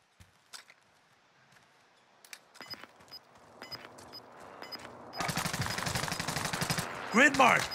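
Gunfire in the shooter game Warzone starts as scattered single shots and footsteps, then breaks into a loud, sustained automatic burst lasting a few seconds. A voice speaks near the end.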